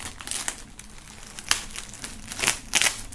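A sticker slowly peeled off crinkly plastic film during an unboxing, close crackling and crinkling with a few sharper tearing pops, no talk.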